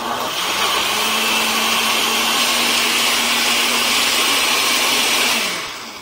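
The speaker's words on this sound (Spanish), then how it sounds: "Y procedemos a licuar" A kitchen blender whirs steadily while blending carrot and spinach for a vegetable cream, a loud, continuous motor drone with a constant hum that holds for about five seconds, then winds down at the end.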